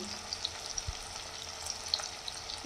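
Garlic cloves frying in hot oil in a pan for a Bengali fish curry, a soft, steady sizzle and crackle with scattered small pops, close and fairly quiet.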